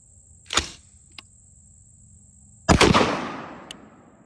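A rifle fires a single loud, sharp Federal Law Enforcement 62-grain 5.56 round from an 11.5-inch barrel, outdoors, with a ringing decay, after a fainter crack and click earlier over a steady insect-like whine.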